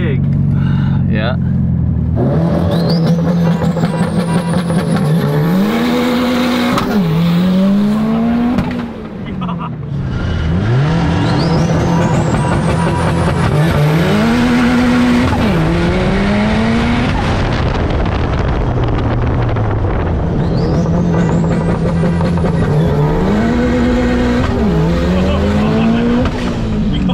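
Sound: Subaru STI and rival car racing from a dig

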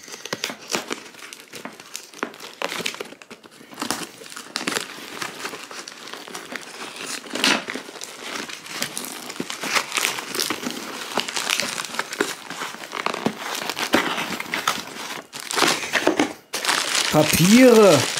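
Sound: crumpling newspaper packing paper from opened fan mail

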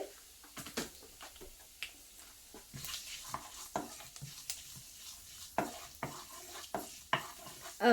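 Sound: mustard, cumin, fennel and fenugreek seeds tempering in oil

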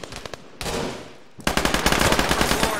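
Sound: machine gun fire in a video game

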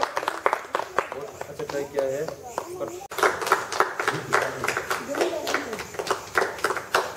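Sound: audience clapping hands

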